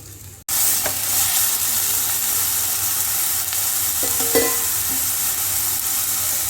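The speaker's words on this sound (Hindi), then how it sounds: "ऑयल गर्म हो चुका है, इसमें प्याज डालेंगे। प्याज को सॉफ्ट करेंगे," Chopped onions hit hot oil in a karahi and fry with a sudden loud sizzle that settles into a steady hiss, with a few stirring clinks near the end.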